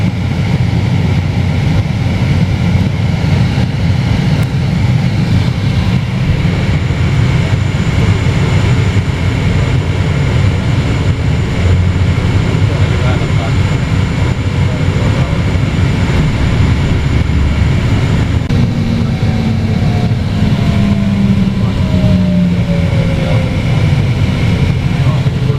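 An airport bus in Baku, Azerbaijan crosses to the opposite side of the terminal, its engine giving a steady low rumble throughout with traffic noise around it and no clear talk.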